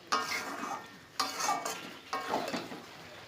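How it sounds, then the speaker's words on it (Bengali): Spice masala sautéing in a pan, three distinct bursts of stirring and sizzling at roughly one-second intervals, close and fairly loud with no talk. "মশলাটা ভালো করে কষিয়ে নেব।"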